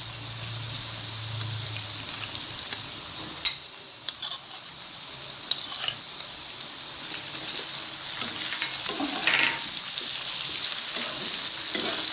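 Spices fry in a pan for a jackfruit curry, giving a steady close sizzle with occasional stirring scrapes and clinks throughout.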